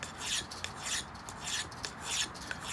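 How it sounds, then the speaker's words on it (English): A fine-grit diamond file rasps over carved stone in repeated regular strokes, close and fairly quiet, with no talking. "But even with that finer grit with the diamond files, you can see that it removes the material quite well."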